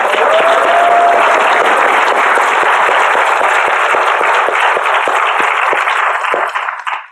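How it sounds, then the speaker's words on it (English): Sustained loud applause from a seated audience at an awards event honouring the nominees, dense clapping running steadily for several seconds before fading out at the end. "Just give them an applause, please."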